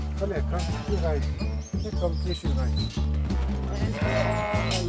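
Goats bleating in a series of short, wavering calls, several close together, over a steady low droning backing that runs through the whole stretch.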